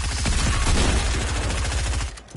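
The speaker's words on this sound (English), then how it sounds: "I tapped in twice with a shotgun." Rapid bursts of close gunfire in Fortnite, shotgun blasts overlapping dense firing from the match, loud and continuous before dropping off near the end.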